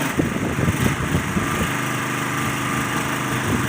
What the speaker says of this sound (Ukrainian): вже скоро повинен запуститися компресор.